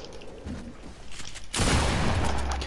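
Video game gunfire: muffled shots early on, then an abrupt, loud sustained burst of rapid fire from about halfway through, dense and close.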